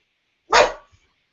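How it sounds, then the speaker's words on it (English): A single dog bark rings out loud and close, one short burst with a quick tail-off, in an otherwise quiet indoor room. "And that is my dog."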